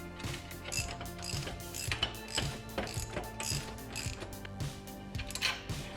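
A ratchet tightening the swing arm kit on a Mega Moto 212 minibike, a steady run of quick, even clicks close up and alone, with faint metallic creaks between strokes.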